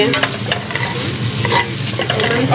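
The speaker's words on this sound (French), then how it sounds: "il faut vraiment remuer" A thick, sticky mixture is stirred in a pot over an open fire in Guadeloupe, a continuous close scraping and bubbling sizzle under a low crackle, with no voices.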